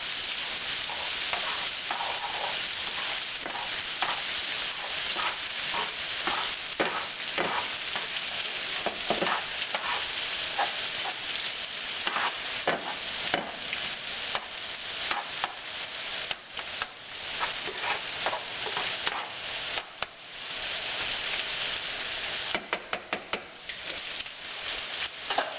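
Ham stir-fries in a pan for a barbecue caterer's stir fry, a continuous close sizzle broken by frequent rapid scrapes and clatters of a utensil tossing the meat, busier toward the end.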